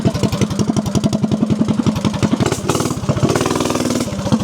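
A 196cc/212cc small engine idles with freshly replaced charge coils, a steady rapid loping putter that is loud and close, with a brief uneven stumble partway through and no talking.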